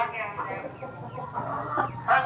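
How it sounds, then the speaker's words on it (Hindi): A hen, an Aseel breed kept in a backyard coop, clucks softly and repeatedly at close range in a short series of low, throaty calls. "और बाकी रही बात इस मुर्गी की, तो वो बैठ गई है दोबारा"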